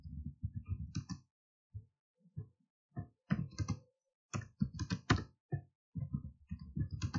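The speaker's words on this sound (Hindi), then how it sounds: "यहां पे मैं टाइप कर लेता हूं वेलकम" Computer keyboard keys clatter in irregular quick bursts with short pauses as a word is typed into a blank PowerPoint slide, close and fairly quiet, with no voices.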